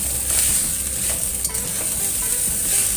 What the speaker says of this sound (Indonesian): Jadi sayurannya dicampur dengan nasi goreng